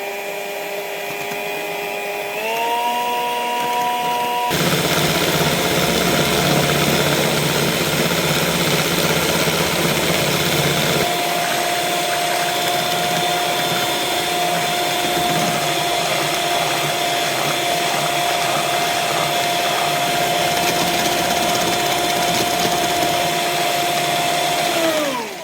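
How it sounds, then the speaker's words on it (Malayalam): An electric mixer beats sugar and eggs at high speed, a loud continuous motor whir that rises in pitch as it ramps up, then runs steadily with shifting tone as the beaters churn the mixture. "നമ്മളിനി ഈ പഞ്ചസാരയും ഈ മുട്ടയും കൂടെ നമ്മൾ നല്ലോണം ബീറ്റ് ചെയ്തെടുക്കണം കേട്ടോ."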